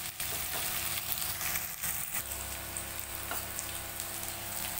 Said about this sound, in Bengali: আলু করলা ফ্রাই হচ্ছে